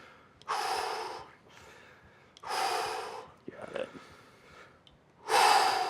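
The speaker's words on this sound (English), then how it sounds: "Beautiful breathing." Three heavy, forceful breaths rush in and out at a steady pace during a hold in a Navy SEAL-style HIIT workout, close and loud, with a brief spoken remark between them.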